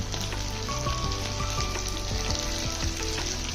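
Onions and tomatoes frying in a pan, a dense continuous sizzle with crackling pops and occasional stirring scrapes, close and steady throughout.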